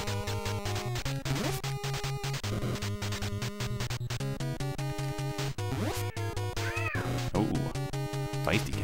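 Meowing cat from the NES beat-'em-up Double Dragon III: The Sacred Stones, rendered as repeated rising chiptune yowls over steady looping game music, with sparse commentary talk nearby.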